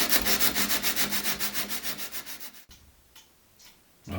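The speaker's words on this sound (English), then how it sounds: "I've been all the way around with the sandpaper now." Sandpaper rubbed back and forth across the burred teeth of a large clock gear, a close, steady rasping rhythm of strokes that stops abruptly partway through, leaving faint scattered handling sounds and no talk.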